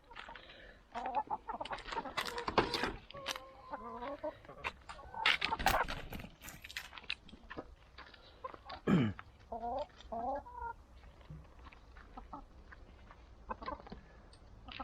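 Village yard chickens cluck and call near and far in irregular bursts, with short rhythmic clucking runs, a few louder squawks and scuffling, amid quiet outdoor background.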